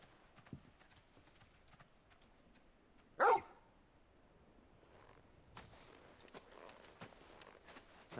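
Torgal, the dog companion in the video game Final Fantasy XVI, walking with soft scattered footfalls and giving one short sharp bark near the middle, all quiet and sparse.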